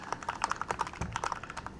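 Rapid, crisp clicking of a mechanical keyboard fitted with upgraded switches, a close, uneven burst of keystrokes alone with no talk.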